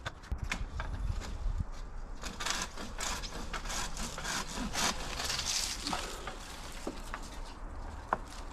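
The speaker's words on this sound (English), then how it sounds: "we're using the Milwaukee M18 pole saw. So this is a 10-inch chainsaw mounted on their power head, and it cuts through really easily." A Milwaukee M18 pole saw, a 10-inch battery chainsaw on a power head, cuts through king palm fronds with a raspy, scraping buzz and crackling wood noises, moderately close with irregular snaps.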